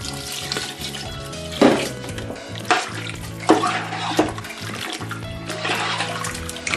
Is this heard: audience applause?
no